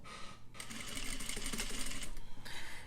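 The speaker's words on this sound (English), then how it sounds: "I'm going to start off with a back stitch." A sewing machine runs a back stitch on bias binding: a steady, close mechanical whir that starts after a brief pause, runs for about a second and a half, stops briefly and resumes, with no talking.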